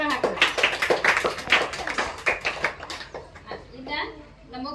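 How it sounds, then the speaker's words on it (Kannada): Children in a Jain religious-education camp classroom clap in a quick, uneven burst of applause after a correct answer, the claps loud and close at first, then thinning out while voices chatter over them. "ವೆರಿ ಗುಡ್, ಚಪ್ಪಾಳೆ ಹಾಕಬೇಕು."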